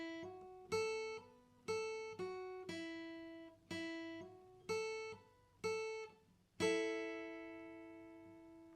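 Guitar playing the first two bars of a riff: a string of clearly separated plucked two-string notes with ringing decay, played alone at a moderate, steady rhythm.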